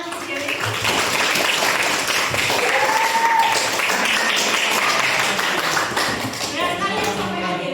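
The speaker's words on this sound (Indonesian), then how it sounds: "Tepuk tangan untuk Dewi" Applause for Dewi in a chemistry classroom, scattered clapping from a small group of students mixed with murmuring voices and chatter throughout.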